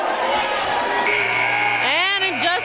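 A basketball game horn sounds at halftime in a high school boys' gym, a loud steady buzzer tone starting partway through and holding under crowd noise and an announcer's voice.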